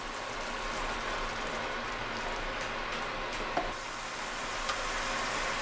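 Egg for an egg sauce sizzles in a hot pan, a steady soft frying hiss like light rain with a couple of faint clicks, close and even, no one speaking.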